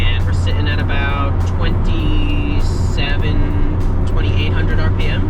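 A 1998 BMW Z3 roadster cruises at 60 in fifth gear around 2,800 RPM, a steady low engine and road hum filling the cabin beneath someone talking throughout.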